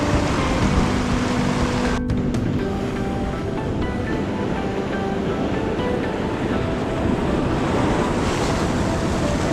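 Big ocean waves surge and wash continuously around a small fishing boat on rough open sea, with wind buffeting the microphone and a brief knock early on.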